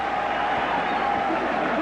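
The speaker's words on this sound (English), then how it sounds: "This crowd is just roaring constantly when the Reds are at bat." Steady, dense roar of a large baseball stadium crowd during the Cincinnati Reds' at-bat in a 1999 Wild Card play-in game against the Mets, a continuous wash of cheering heard at a distance.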